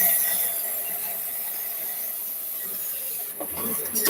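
A bandsaw cuts through a heavy log in a woodworking shop, giving a steady, close, whining hiss of blade in wood that runs unbroken and ends in a short rough scrape.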